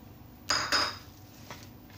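Kebab mixture of potatoes and vegetables stirred in a bowl, two quick close clinks of a utensil against the bowl followed by softer faint scrapes, otherwise quiet.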